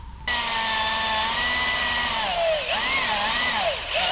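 A power drill bores out spot welds on a 2020–2021 Ford Escape door check bracket: a loud, close whine that starts sharply, holds steady, then dips and wavers in pitch as the bit bites into the metal.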